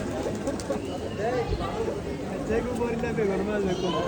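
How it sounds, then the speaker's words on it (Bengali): Pigeons gather in a crowded shrine courtyard at Hazrat Shahjalal in Sylhet, giving faint cooing and flutter beneath people talking nearby and general crowd babble. "এই যে দেখো কি সুন্দর, কত কবুতর"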